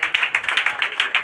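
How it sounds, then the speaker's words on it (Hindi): Audience clapping at a district topper award ceremony for Bihar Board students, a steady run of claps in a fairly close, lively rhythm with no talk over it. "चलिए ताली होते रहे भाई।"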